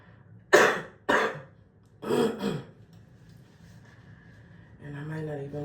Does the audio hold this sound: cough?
yes